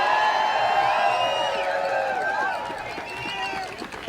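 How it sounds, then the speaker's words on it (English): A crowd at an impeachment rally cheers and whoops for a veteran speaker named Evan. Overlapping voices rise loudly at first, then slowly fade. "Another round of applause for Evan"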